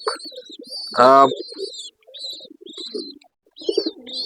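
Soft chirping calls from young pigeon chicks, with high peeping notes near and intermittent, mixed with a brief voice sound.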